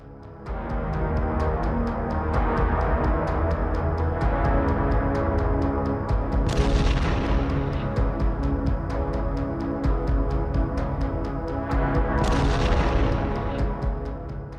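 Sustained heavy combat gunfire with booming artillery fire, a dense continuous roar with two sharper loud blasts standing out partway through, on a battlefield where an armored assault advances along mined roads.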